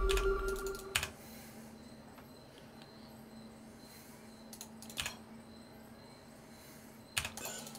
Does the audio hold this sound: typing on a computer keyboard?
yes